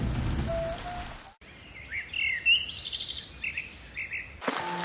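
Heavy rain in a cartoon scene, a broad steady hiss of downpour at moderate level, with chirping bird-like calls scattered over it and a brief quieter break in the middle.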